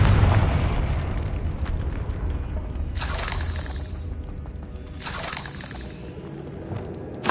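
A Confringo spell blast from the Hogwarts Legacy video game bursts twice in sharp explosive whooshes over a constant low rumble of game ambience, with no talking.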